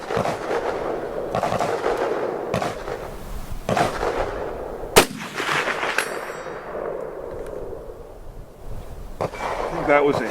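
Romanian M56 SKS rifle shots striking a steel target at long range: several sharp cracks, each followed by a bright metallic clang. The loudest report lands near the middle, and faint speech can be heard between shots.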